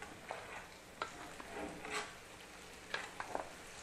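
Onions frying in a pan give a faint, low sizzle with a few quiet stirring clinks and scrapes, heard close but soft and sparse.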